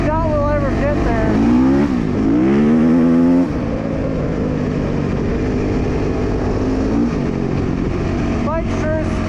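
KTM SX-F 450 four-stroke dirt bike engine while riding, a loud, close, steady drone with rising and falling revs under heavy wind rush, and a voice speaking over it.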